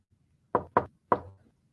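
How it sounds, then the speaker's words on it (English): Three quiet knocks on a front door, close and distinct, the first two in quick succession and the third after a short pause, with no voices. "At that moment, Mr. Cream heard a quiet little knock at the front door."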